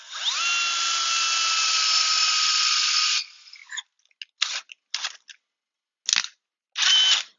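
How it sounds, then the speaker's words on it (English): Power drill boring through aluminum for a hillside stair assembly, one loud, steady high whine lasting about three seconds, followed by several short bursts as the bit is pulsed. "go ahead and drill that through"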